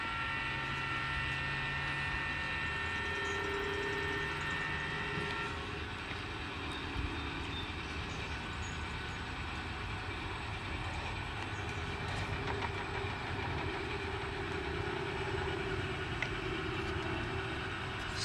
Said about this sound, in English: we're going to watch a run-through train, as I promised